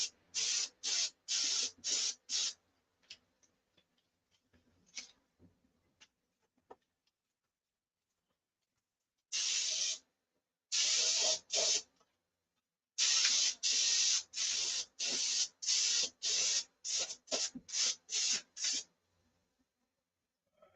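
A spray gun lays clear coat on the underside of a Viper in a series of short, sharp hissing bursts. Two quick runs of passes are separated by a long quiet gap, and no one talks.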